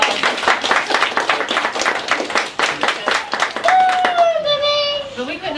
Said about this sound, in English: give Miranda a round of applause